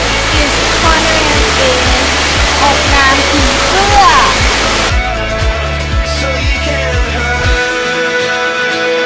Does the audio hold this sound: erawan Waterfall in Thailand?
yes